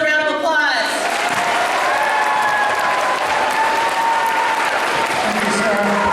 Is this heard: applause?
yes